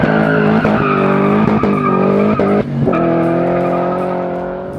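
A 755 hp LT5-powered 1979 Camaro Z28 accelerates away hard, its engine droning loudly through rising gear pulls while the tires squeal, with a short break at a shift before it fades slightly into the distance.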